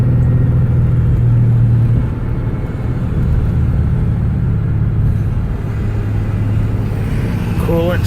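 A 1995 Ford Thunderbird SC pulls away gently in second gear through a residential street, its engine a steady low rumble heard from inside the car, with a heavier throttle surge in the first two seconds before settling.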